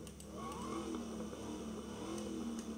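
A video game car engine revs and drones continuously, with the pitch rising and falling as it accelerates, steady and fairly close.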